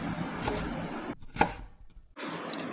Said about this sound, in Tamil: நான் எக்ஸ்ட்ரா டொமேட்டோஸ் கட் பண்ணி ஆட் பண்ணிக்கிறேன்